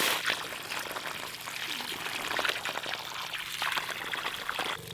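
Water from a hand-dug, solar-pumped well pours out of a pipe in a steady, close splashing gush with a fluttering texture, continuous throughout without talk.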